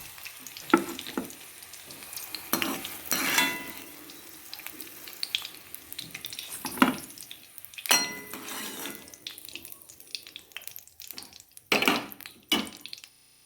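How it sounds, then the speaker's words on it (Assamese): Pointed gourd that was boiled first now fries in a pan, with faint sizzling broken by repeated scraping and stirring clatters close by. "পটল অলপ ফ্ৰাই কৰাৰ পিছত মই এখন প্লেটলৈ কাঢ়ি ল'ম।"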